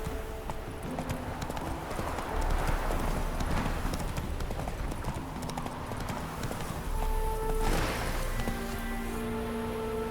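Geralt's horse Roach gallops in the Witcher 3 video game, a steady rhythmic clip-clop of hooves pounding along over a low rumbling game soundtrack, with the hoofbeats surging louder in two stretches.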